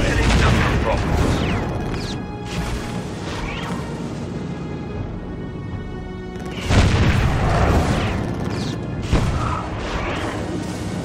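Two heavy booming cannon shell explosions in the video game Defense Grid, one at the start and another partway through, each followed by a rumbling, crashing tail, with voices faintly underneath.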